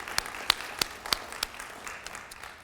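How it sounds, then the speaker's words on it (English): Audience applause at a morning history symposium after a national anthem performance, a scattered patter of claps with a few sharp louder hits, moderately distant and thinning out over a few seconds. "Let's give Victoria another round of applause for that."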